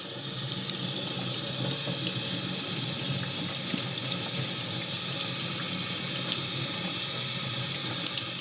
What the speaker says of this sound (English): you want to wash it off with water, dry it off